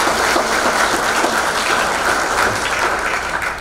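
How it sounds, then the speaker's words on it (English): A crowd at an outdoor farm field day panel on no-till agriculture gives a sustained round of applause, dense and even, with steady clapping from many hands and no talk over it. "Let's give them all a big round of applause."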